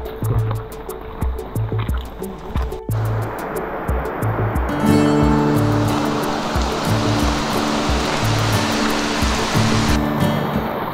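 River and waterfalls in the Singnapan Valley give a steady, loud rushing of water throughout, with a rhythmic low thumping beneath the flow.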